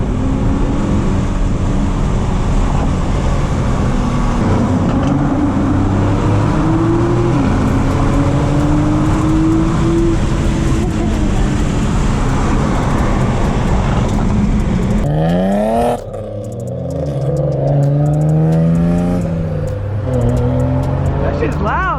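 A loud Nissan GTR engine accelerates hard inside the car, a sustained rising roar that drops away and rises again near the end, with voices talking over it throughout.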